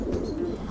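A racing pigeon in a loft gives a brief low coo, a soft throaty burble that is close and moderately quiet, with no talking.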